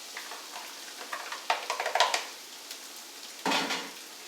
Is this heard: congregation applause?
no